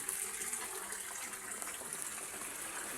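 Water pours steadily and loudly into a tilapia tank, a continuous splashing gush with no break, heard close up.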